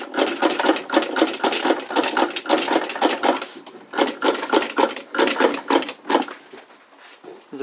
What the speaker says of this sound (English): the Birch sewing machine.